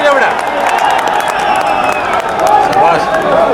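Rally crowd clapping and cheering outdoors, dense continuous applause mixed with babble and scattered shouts, loud and sustained throughout.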